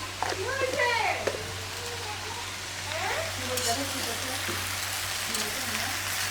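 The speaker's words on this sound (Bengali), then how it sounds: "লাল শাক ভাজিটা চুলায় দিয়ে দিলাম।" Red amaranth greens frying in oil in a pan on a home stove, giving a steady, soft, rain-like sizzle with faint stirring, low and continuous under a background hum, with brief bits of a voice.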